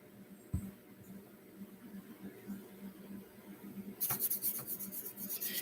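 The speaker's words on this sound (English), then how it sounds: "I'm just taking my finger and just rubbing it along." A finger rubs along the surface of a fall and Halloween decoration, making faint, soft scratchy strokes that grow into several brief rasping passes near the end of an otherwise quiet stretch.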